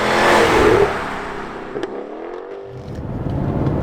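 Jaguar F-Type V8 R with an automatic gearbox in dynamic mode, its engine revving with a rising, steady exhaust tone heard up close, the note swelling and holding for a few seconds.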